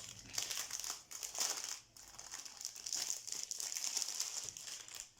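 A plastic-wrapped package, about 40 by 60, is torn open close by with loud crinkling and crackling in bursts separated by short pauses, and no talk.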